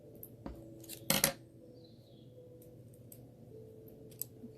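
Snipping the pointed end off a popsicle stick in a craft project for a light-up heart box: one crisp, close cutting snap stands out against quiet room tone, with a few faint ticks around it.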